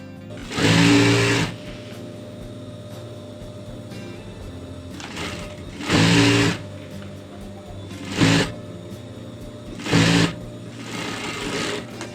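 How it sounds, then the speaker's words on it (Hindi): A sewing machine runs in four separate bursts while stitching the border onto a lehenga for a Rajputi outfit. The first and second bursts are longer, the later ones short, with steady whirring close by and quiet pauses between. "इस तरह से हमें बॉर्डर को बराबर मिलाते हुए सिलाई करते रहना है।"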